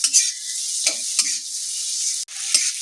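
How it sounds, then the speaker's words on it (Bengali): Shrimp frying with onion and garlic for a taro leaf dish, a steady bright sizzle broken by a few sharp scrapes and stirring clinks, close and fairly loud with no voices. "চিংড়ি মাছের সাথে পেঁয়াজ রসুনের সাথে ভালো মতো করে ভাজা ভাজা করে নিয়েছি"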